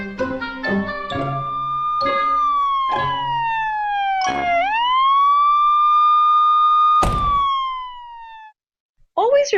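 Ambulance siren, a loud, close wailing tone that sweeps down then rises and holds, preceded by several short sharp blips and ending abruptly.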